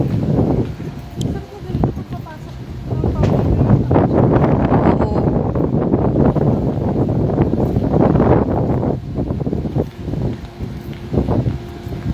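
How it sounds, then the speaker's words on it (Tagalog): Gusts of wind buffet the microphone in loud, rumbling waves, rising and easing over several seconds, with voices faintly underneath. "Mahangin."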